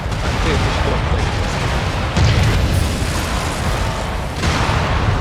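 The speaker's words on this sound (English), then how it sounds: "Explosion detected." Explosions in a video game battle form a loud, continuous wall of rumbling booms and blasts, with heavier hits surging through the dense din and voices partly buried underneath.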